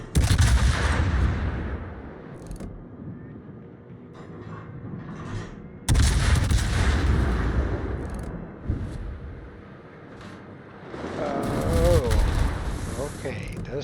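Artillery shells fired in a naval combat video game, heavy booming blasts that swell and decay over several seconds, with a second loud volley midway and a rumbling, crackling tail; a voice talks over parts of it.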